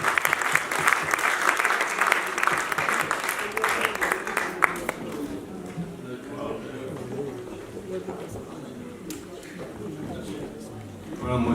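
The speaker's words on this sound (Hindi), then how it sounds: "भरपूर तालियों में" Dense applause from an audience welcoming a guest poet, Kaiser Wajdi, at an Urdu poetry gathering, loud and sustained for about five seconds before fading into quieter crowd murmur and scattered claps.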